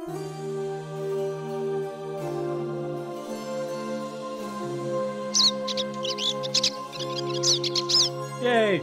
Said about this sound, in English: Yay, cheap bird sounds.